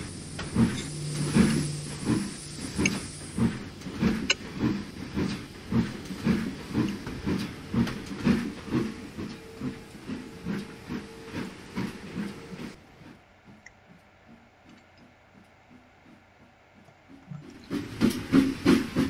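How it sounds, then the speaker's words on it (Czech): A train in the Trainz simulator game pulls slowly away, with rhythmic clunks and a steady hiss of steam that fade to near silence for a few seconds before the mechanical rattling returns. "tady to vidíte, vlak nám pomalu vyjíždí"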